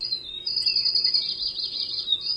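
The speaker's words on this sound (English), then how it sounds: "more birds," Birdsong sound effect from a sound-machine gadget: a continuous bright, high chirping and trilling over a soft hiss, steady throughout with no talking.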